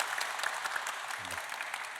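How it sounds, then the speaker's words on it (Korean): An audience applauds at a Korean gallery talk about traditional paper crafts, a soft, steady patter of many hands clapping in a room, moderately distant, with a brief low voice partway through. "박수 부탁드리겠습니다."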